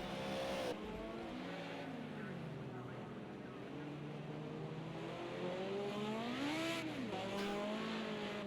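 A race car in Project CARS 2 pulls out of pit lane at Oschersleben during an FIA GT Championship '98 race, its engine note rising and falling through gear changes under ongoing commentary.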